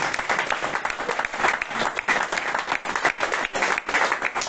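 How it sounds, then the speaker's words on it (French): A church congregation at a French-language revival weekend service applauds and cheers, dense sustained clapping from a large crowd filling the space for several seconds without letup. "Est-ce qu'on peut acclamer le Seigneur?"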